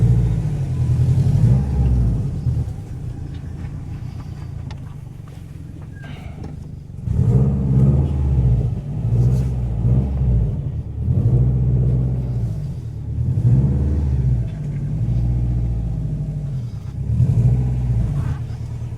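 Subaru EJ flat-four car driving for the first time in six years, a loud, close, rumbling engine with repeated rising and falling revs and a lumpy, uneven low throb, no talk.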